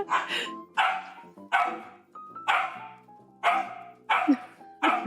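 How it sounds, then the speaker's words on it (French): A small dog named Dobby barks repeatedly in an even, rhythmic pattern, about seven loud close yaps over five seconds, with no talking. "C'est un chien qui a le rythme dans la peau."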